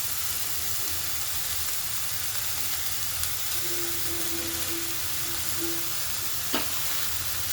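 Whole spices and raw garam masala sizzling in hot tempering oil for a wheat-rava vegetable kichidi, a steady soft hiss with a brief clink near the end.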